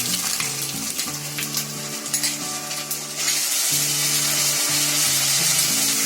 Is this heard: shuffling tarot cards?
no